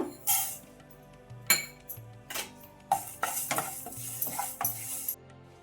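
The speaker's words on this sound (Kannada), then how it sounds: "ಈಗ ಕಡಲೆಬೇಳೆ ಉದ್ದಿನ ಬೇಳೆ ಹಾಕೊಂಡಿದ್ದೀನಿ ಇದೊಂದು ಸ್ವಲ್ಪ ಚೆನ್ನಾಗಿ ಹುರಿಯಿರಿ" Chana dal and urad dal being dry-roasted in a pan while stirred with a metal spoon, with close scraping and clinking strokes against the pan and a faint sizzle between them.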